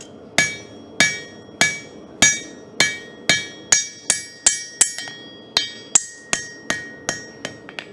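A hammer strikes hot knife steel during forging, ringing out in about twenty sharp, metallic blows at a steady, slightly quickening rhythm, each blow loud and close with a brief ringing decay.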